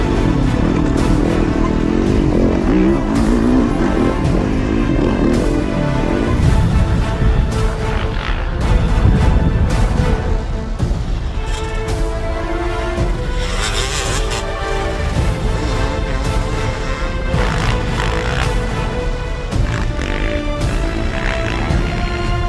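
Motocross motorcycles race through rough, tight wooded terrain in bad conditions, engines roaring loudly and continuously, with overlapping revving and throttle surges from several bikes up close throughout.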